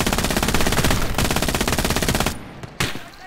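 Machine gun fire in the World War II game Gates of Hell: long, rapid bursts of automatic rounds, loud and close. The fire cuts off abruptly, with a couple of single shots after a short pause.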